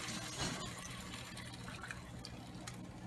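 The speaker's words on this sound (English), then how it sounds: "So now I'm going to add that water" Water poured into a frying pan holding flour and seasoning drippings, a continuous close splashing gush that runs steadily for a few seconds.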